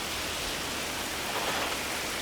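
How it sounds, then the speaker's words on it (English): Heavy rain falls in the prison-building game Prison Architect, a dense, continuous hiss of downpour that holds steady at full loudness with no talking. "Some serious rain happening here."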